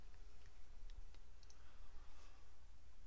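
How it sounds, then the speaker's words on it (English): A computer mouse clicks the Set Reset button in a scientific notation demonstration program, giving a few faint, sharp clicks against quiet background hiss. "The illustration is initialized by clicking the Set Reset button."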